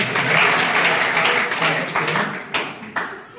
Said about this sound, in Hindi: हम चाहेंगे बच्चे 3 बार केवल ताली बजाएंगे।